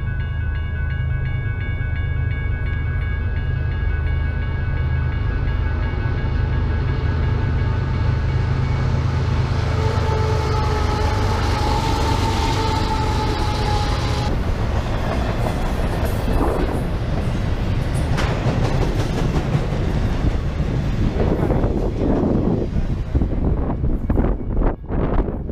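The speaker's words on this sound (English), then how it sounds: "I like watching the trains." A train rumbles past at close range, a loud continuous roar with steady rolling rail noise and wind buffeting the microphone, building toward a clattering, noisier passage near the end.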